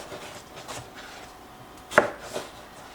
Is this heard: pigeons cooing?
no